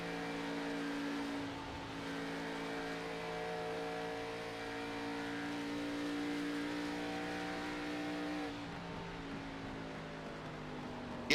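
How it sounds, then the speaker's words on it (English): ARCA Series race car on track coming out of turn 2, engine held at steady full throttle with a sustained harmonic roar, pitch slowly shifting, then easing off near the end. "All right, we're coming out of turn 2. I want you to just listen to the throttle."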